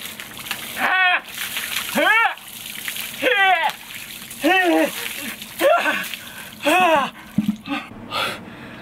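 Ice water is dumped in an ice bucket challenge, with repeated splashes and sloshing punctuated by sharp gasps and yelps roughly every second, close up.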